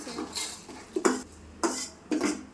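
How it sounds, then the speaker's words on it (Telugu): Vermicelli being roasted in ghee in a pan, with three sharp clinks of a metal spoon scraping and knocking against the pan over a faint background. "కప్పు సేమియా, కొద్దిగా నెయ్యి వేసి బాగా వేయించుకుంటున్నాము."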